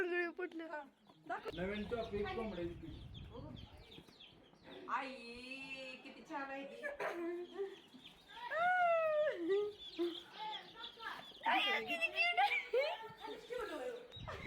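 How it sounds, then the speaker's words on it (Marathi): Small, brightly coloured baby chicks cheep in high, wavering chirps through a rural Indian village farmyard, with someone speaking over and between the calls throughout. "बघितली किती छान छान छोटी छोटी रंगीबिरंगी ही पिल्लं आहेत कोंबड्यांची."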